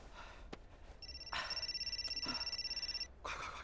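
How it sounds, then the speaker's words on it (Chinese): A telephone bell rings in a steady pulsing trill for about two seconds, preceded by brief rustling and followed by faint movement. "电话响了。"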